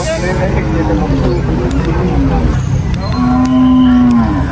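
Cattle low loudly at a Vietnamese cattle and buffalo market, one long drawn-out moo rising over a steady crowd hubbub and nearby chatter.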